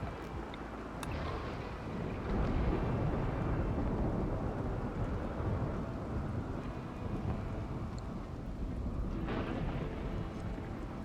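A thunderstorm in the video game RimWorld, a steady low rumble of wind and rain that swells slightly and holds throughout, with faint sharper cracks now and then, and no talking.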